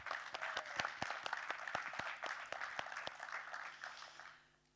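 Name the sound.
applause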